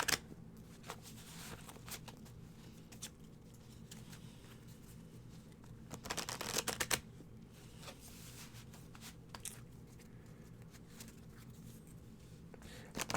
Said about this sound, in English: So I'm going to let Banshee also shuffle the cards